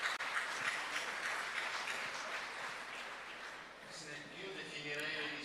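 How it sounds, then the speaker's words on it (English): Applause from a conference audience at a steel industry event, a soft, even crowd clapping heard from a distance and sustained throughout, with some voices underneath. "A great applause to Manuel, who really deserves this."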